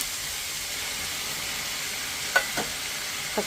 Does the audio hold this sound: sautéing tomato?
yes